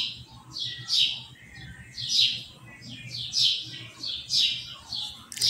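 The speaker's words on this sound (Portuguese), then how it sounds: "Gente, vocês estão escutando os pássaros?" Small birds sing outdoors in repeated bright chirping phrases about once a second, fairly close and clear over a faint low hum.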